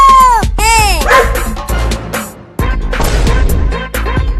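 Two aggressive dogs bark and yip loudly in a domestic comedy sketch, with sharp, closely spaced barks and some whimpering over the whole stretch, and a voice shouting among them.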